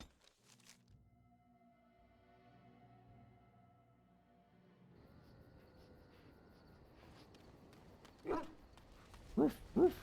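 A dog in the video game Dragon Age: Origins gives a few sharp barks near the end, after a long stretch of quiet ambient tones and a low rumbling background.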